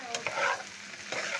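Shrimp and eggs frying in a hot pan, a steady close sizzle with brief bursts of louder crackle and stirring scrapes, no voices.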